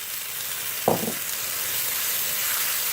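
Chickpeas tip into a balti curry frying in a pan, giving a brief burst of louder sizzle about a second in over a steady, even hiss of cooking that carries through to the end.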